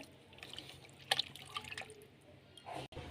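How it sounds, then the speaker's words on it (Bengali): Goat meat is washed in water, with faint, scattered drips and splashes and light sloshing in a quiet kitchen. "এই খাসির মাংসটা ধুয়ে নিচ্ছি ভালো করে"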